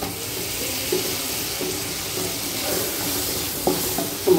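Long-cut eggplant pieces sautéing in a pan for a Tamil coconut-milk gravy, with steady sizzling and occasional stirring scrapes and clinks, close and alone.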